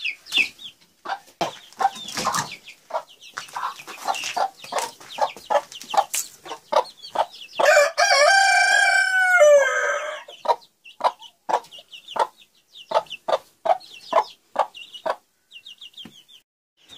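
A hen clucks in rapid, sharp repeated notes inside a small pen with chicks, close and loud, with a longer drawn-out burst of calling in the middle before the short clucks resume.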